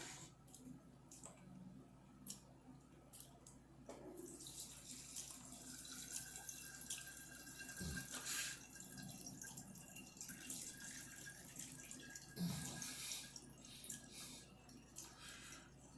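Liquid runs through a coffee filter set in a funnel, a steady trickle and patter lasting throughout at moderate level with a few brief clunks, no speech.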